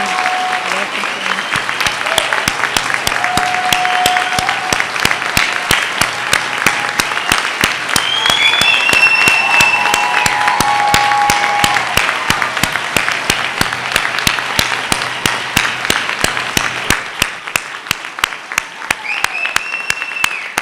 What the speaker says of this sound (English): Please join me in giving the whole class a warm round of applause.